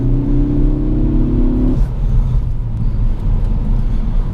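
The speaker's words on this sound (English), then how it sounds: "I always loved the way the ST sounds with the induction noise it has" A 2017 Ford Focus ST with a 4-cylinder EcoBoost engine drives on snowy roads, its steady engine drone and induction whir loud inside the cabin, with a rising tonal note for the first couple of seconds that then settles into a constant low rumble.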